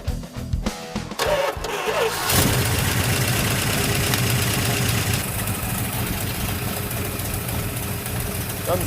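A junkyard Plymouth 'Cuda engine cranks briefly, catches, and settles into a loud, steady rumbling run that continues close by.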